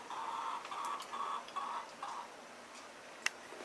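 Backyard hens clucking in a steady, rhythmic series of calls over roughly two seconds, moderately close, followed by quieter ambient sound and a single sharp tick near the end.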